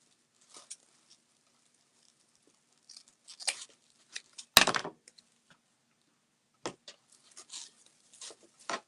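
Scissors snip through Christmas wreath materials such as mesh and pipe cleaners in scattered crisp cuts, close and fairly quiet, with one sharper snap midway and no talking.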